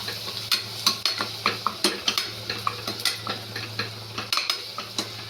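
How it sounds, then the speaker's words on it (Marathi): Peanut paste being stirred into frying masala, with repeated sharp metallic scrapes and clinks of a spoon against the pan in a quick uneven rhythm over a low, steady sizzle. "आपण हे शेंगदाण्याचं वाटण पण टाकूया. मिक्स करून घेऊया."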